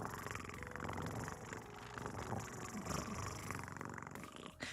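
A voice imitating a cat's purr, a steady low rumbling vibration held for several seconds, fairly close and continuous.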